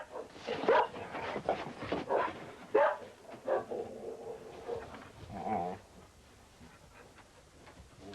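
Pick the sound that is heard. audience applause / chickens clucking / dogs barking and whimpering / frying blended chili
dogs barking and whimpering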